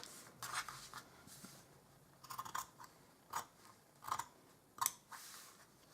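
Scissors snip through a lace hanky to cut out its middle, making a series of quiet, crisp cuts in irregular bursts, close and alone.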